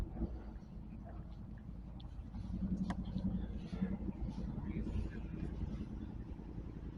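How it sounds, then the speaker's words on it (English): Motorcycles rumble in a pub car park during an evening car meet, a low, distant engine drone in the background with some revving. "what you can hear in the background in their car park is motorcycles."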